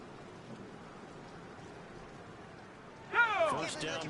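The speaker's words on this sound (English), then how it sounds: "The rain set to continue as we are underway in the second half." Steady, soft rain hiss fills the background of a Patriots vs. Dolphins football video game. A voice-like sound rises briefly over the rain near the end.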